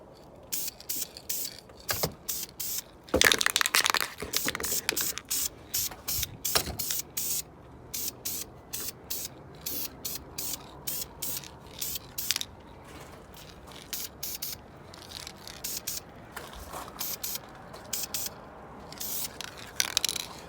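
Repeated short bursts of aerosol spraying, hissing on and off in quick pulses with brief pauses, close by and fairly loud.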